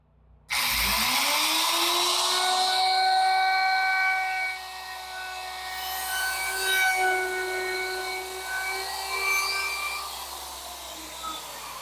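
A woodworking router cuts into a sample piece of wood for a countertop: a sudden loud, steady high-pitched whine with a spin-up, holding close and constant for several seconds before the load eases and the tone wavers as the cut continues.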